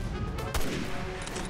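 A sniper rifle fires once in the video game Resident Evil 6, a single loud sharp crack over a steady noisy game background.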